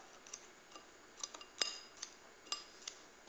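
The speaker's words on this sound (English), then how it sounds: "We're going to take a fork or a spoon. And we're going to stir it." A fork stirring walnuts and cinnamon in a bowl for a cream cheese danish topping: faint, scattered metallic clinks and taps against the bowl, irregular and quiet, close by with no talking.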